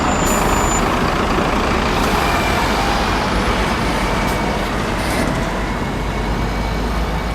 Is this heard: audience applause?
no